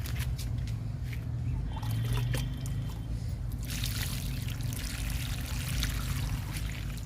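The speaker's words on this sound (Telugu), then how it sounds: "ఇప్పుడు వాటర్ ఇచ్చేద్దాము." Water is poured onto a newly planted croton in a tub of garden waste and soil, making a continuous close splashing trickle that soaks into the earth, steady in level with no speech.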